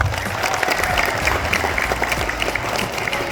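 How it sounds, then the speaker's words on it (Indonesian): Junior high school students at an orientation event clap together, a lively, dense burst of hand claps filling the space, fairly loud and close. "Tepuk tangan dulu."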